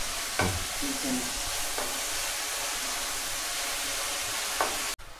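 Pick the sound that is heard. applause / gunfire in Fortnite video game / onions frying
onions frying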